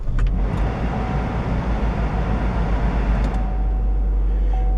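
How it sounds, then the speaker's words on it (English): A Chevy Trax car engine turns over and starts up close by, with a brief starter whir followed by a steady low idle rumble. "All right, start the car up."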